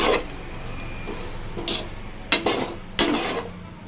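Bitter gourd pieces frying in a pan for a chutney, with a soft sizzle and several clear metallic clinks and scrapes of a spoon stirring against the pan, nearby, without talk.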